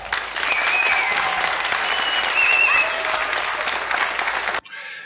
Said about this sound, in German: sie haben uns aber auf jeden Fall begeistert mit ihren Applaus